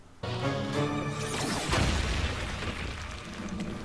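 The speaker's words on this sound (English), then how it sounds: "Breaking out the lasers and explosions now." A loud, sudden blast erupts and keeps rumbling with dense crackling noise, a second heavy boom landing partway through before it trails into a sustained roar.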